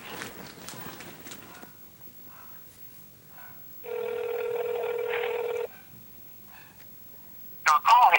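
A phone call ringing out during a prank call: a steady ringback tone sounds for about two seconds mid-clip, with quieter background noise and people talking softly before it and a brief louder burst at the end.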